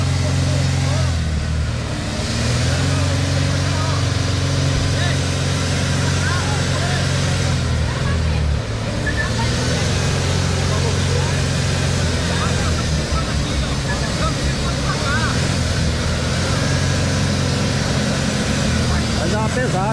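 A bus with chains on its tires labours up a slope, its engine droning loud and continuous with shifting pitch, while people talk over the rumble throughout.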